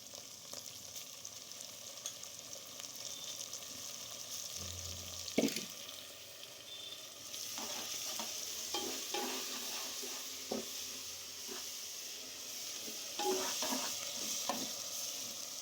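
Coriander and mint leaves frying and being stirred in a pan for Telangana-style chicken curry, a steady soft sizzle with scraping stir strokes and clinks close by, no talking.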